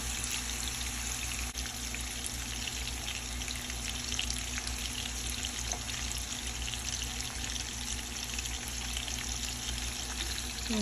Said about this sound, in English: so we're going to let the shrimp cook